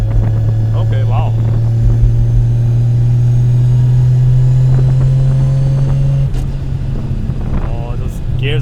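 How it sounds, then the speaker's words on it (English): A 750 hp Nissan R32 Skyline GT-R with a sequential gearbox and straight-piped exhaust, driving with a loud, steady gear whine riding over the engine drone and briefly dipping as it shifts, with voices faintly underneath. "Oh, those gears are pretty loud,"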